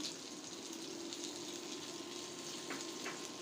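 Dried fish (shutki) sizzles steadily in a frying pan, a soft, even crackle and hiss throughout with faint pops, no voices.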